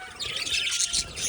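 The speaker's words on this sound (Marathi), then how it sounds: "रंगीबेरंगी 50-60 पोपट सुंदर अशी सोय केलेली आहे." A flock of fifty to sixty colourful parrots kept at a heritage house chirps and squawks in a dense, continuous chorus, close and moderately loud, with no talking.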